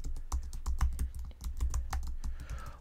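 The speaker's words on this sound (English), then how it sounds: "I'm going to type Authenticator." Keys clatter in quick, uneven bursts on a computer keyboard as a search term is typed into the Chrome browser, close and fairly loud, with no talking.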